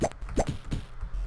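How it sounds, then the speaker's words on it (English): Stock bubbly "whoop whoop" sound effect from a Tiger Game.com handheld video game, a few quick plopping pops in a row, fairly quiet and alone with no talking. "You heard that whoop, whoop, that bubble sound?"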